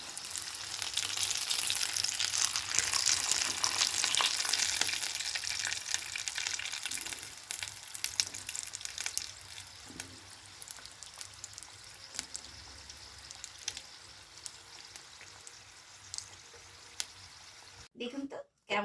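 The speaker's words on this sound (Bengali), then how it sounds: "এগুলো আমার ভালো করে ফ্রাই করা হয়ে গেছে।" Atta flour patties fry in hot oil with a steady bright sizzle that gradually thins out, ending with a few clattering knocks.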